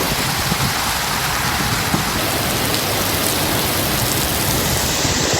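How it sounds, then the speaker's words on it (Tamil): Heavy rain driven by strong gusting wind pours down across Chennai at midnight as a dense, loud, unbroken hiss that stays steady throughout, with no voices. "சென்னையில் நேற்று நள்ளிரவு பல்வேறு இடங்களில் சூறைக்காற்றுடன் கனமழை பெய்தது"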